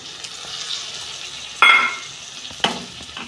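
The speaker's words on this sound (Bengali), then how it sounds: "আমি ডালটা দিয়ে দিচ্ছি, মুগের ডাল।" Moong dal goes into a hot pan in a Bengali vegetable dish, with a soft continuous sizzle and two sharp scraping stirs of a spoon against the pan, close and clear.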